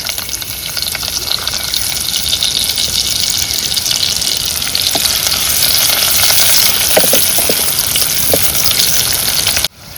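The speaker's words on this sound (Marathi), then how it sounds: "आता कांदो घालते फोडणी" Loud, continuous sizzle of onions frying in hot oil, with occasional crackles and spatters, ending abruptly.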